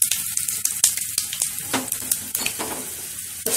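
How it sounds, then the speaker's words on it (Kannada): Food frying in a pan for idli upma sizzles steadily and close by, with sharp clicks and scrapes from stirring scattered throughout. Nobody speaks. "ಒಂದು ನಿಮಿಷ ಫ್ರೈ ಆಗಲಿ ಅದು ಚೆನ್ನಾಗಿ"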